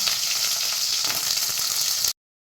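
Pointed gourd (potol) fries in hot oil with a dense, bright, steady sizzle heard up close, continuous for about two seconds before cutting off abruptly into silence.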